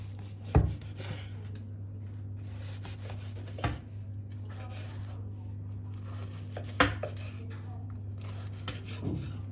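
Pastry being cut on a cutting board, four sharp knife thuds spaced a few seconds apart over a low steady background hum, no talking.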